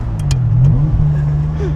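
Ferrari 550 Barchetta V12 with a manual gearbox hums close and loud in a steady low drone, with a slight rise in pitch partway through; no talk.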